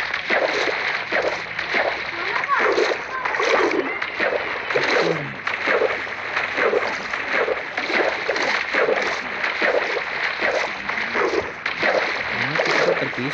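Repeated splashing of a Minecraft character dropping and paddling in water near a beach, steady choppy sloshes running continuously at moderate loudness with no talk.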